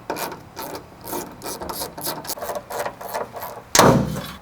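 A hand ratchet loosening 10mm bolts on the front quarter panel of a Jeep, with a steady run of rapid clicking strokes in bursts and a sharp louder clatter near the end, close and alone.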